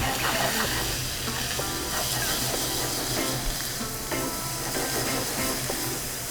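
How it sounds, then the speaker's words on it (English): Granny Smith apples searing with caramelized onions in a hot pan give a steady, close sizzle and crackle that holds at an even loudness throughout, with light stirring scrapes and no voices. "add your Granny Smith apples. You want to sear these until golden brown"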